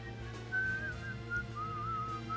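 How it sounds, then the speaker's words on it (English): Someone whistles a wandering, thin melody in a quiet setting, with short phrases rising and falling over a low steady background hum. "Somebody just had to be rude and whistle, didn't they?"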